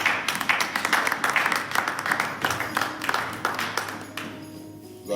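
A church congregation applauds, a dense run of steady hand claps close by that carries on for several seconds and thins out toward the end.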